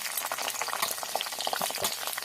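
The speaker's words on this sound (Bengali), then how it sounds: "পেঁয়াজটা লাল করে ভেজে নিই।" Onions frying in a pan with whole garam masala for egg curry, a dense continuous crackle and bubbling sizzle with scattered pops and stirring scrapes throughout, steady and close with no talk.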